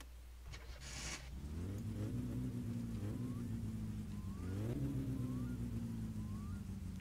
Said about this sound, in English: I didn't go through all this effort just to have a crappy sounding car.